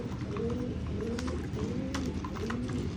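Pigeons coo close by in soft, repeated rounded calls, several overlapping phrases rising and falling over a faint background hum with no speech.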